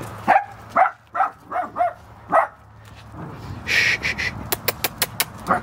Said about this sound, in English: You hear some other doggies, don't you?